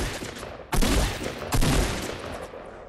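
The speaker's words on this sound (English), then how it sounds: "Those are all my shots." Gunfire in the Fortnite video game: two loud, close bursts of rapid shots, one beginning near the first second and another about a second later, each decaying into a dense rattling tail with no talking.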